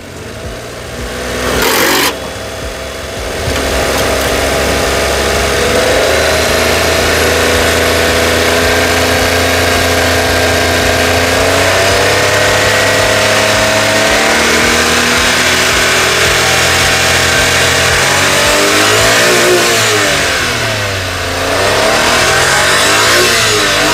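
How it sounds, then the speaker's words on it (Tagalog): A Suzuki DA17V van engine idles, then gets revved repeatedly. The close, loud mid-pitched drone climbs and falls in several swelling pulls, with no talking over it. "So i-rev natin ha. Tignan natin yung engine niya pasado."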